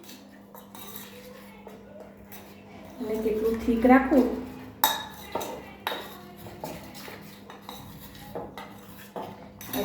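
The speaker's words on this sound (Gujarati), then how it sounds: "પાણી રેડીને" A spoon mixes gram flour batter with water and spices in a bowl, making repeated clinks and scrapes against the sides, with a person talking over the stirring.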